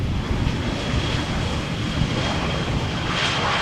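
An EasyJet airliner flying past at Amsterdam Schiphol Airport, a brief steady jet rumble with a thin high whine, mixed with wind buffeting the microphone.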